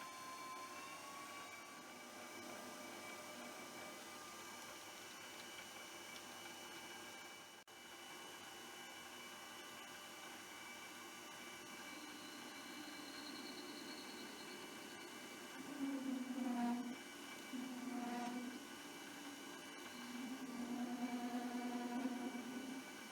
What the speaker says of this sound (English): start drilling it with a normal 6mm drill, and then I'm going to finish it off with a 6mm end mill